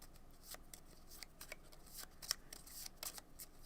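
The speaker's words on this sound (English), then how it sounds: "Give it one more riffle." Playing cards being riffle shuffled during a tabletop wrestling card game session, a series of crisp, quick riffling bursts at close range, fairly quiet, with no talk.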